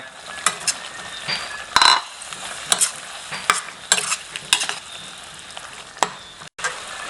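Fish paste sizzles and fries in a pan for green curry while a utensil stirs and scrapes it, with irregular clatters over a steady close hiss and no talking.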